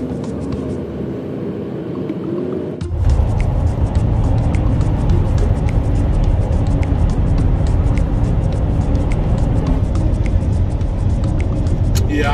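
A car drives along a one-way city street in Atlanta, its steady road rumble and engine noise loud and continuous once it pulls out, with faint ticking and traffic sounds layered above.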